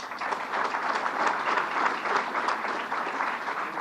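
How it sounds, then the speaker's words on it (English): A crowd applauds warmly at a groundbreaking ceremony for a Cold Spring Harbor Laboratory center, steady clapping from many hands that holds at an even level for a few seconds. "please give him another round of applause"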